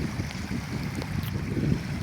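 Small waves lap and a steady wind rushes over a reservoir on the Dniester during night fishing, a soft continuous low wash with faint gusts and no talk.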